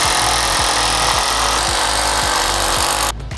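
A power drill bores a 10 mm pilot hole into a wall, giving a steady, loud whirring grind that runs continuously for about three seconds before cutting off abruptly.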